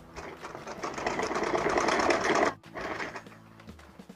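A sewing machine stitches along a suit sleeve, a steady rapid whirr running for about two and a half seconds, then stopping briefly before a softer, slower burst of stitching resumes.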